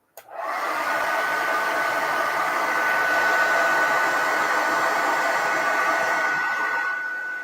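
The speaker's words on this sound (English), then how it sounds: "hair dryer." A hair dryer switches on and runs with a steady, loud, even whoosh and a faint high whine, holding constant for several seconds before easing off at the end.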